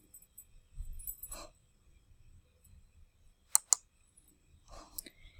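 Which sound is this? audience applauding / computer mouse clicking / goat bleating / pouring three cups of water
computer mouse clicking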